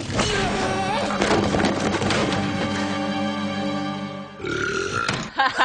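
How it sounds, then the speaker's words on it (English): A monstrous wheelie bin from a Doctor Who scene lets out a long, loud, rumbling burp, with a final thud and a brief noisy tail. "I love that burp. Nice little burp."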